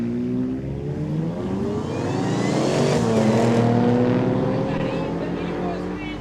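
A Porsche Macan accelerates hard down a no-prep drag strip at a street day event, its engine note rising and swelling to a close, loud peak before easing off, with people talking faintly under it.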